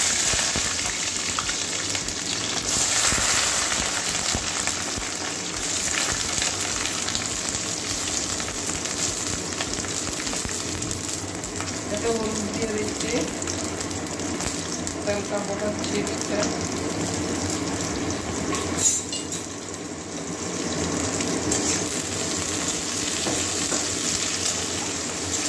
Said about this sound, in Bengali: তেল গরম হয়ে গেছে, এবারে কুঁদরিগুলো ভেজে নেবো হালকা।